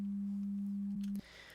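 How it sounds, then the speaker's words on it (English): A pure, steady 200 hertz sine tone holds evenly for a little over a second, then cuts off abruptly, leaving faint room hiss. "I've got a sine wave starting at 200 hertz"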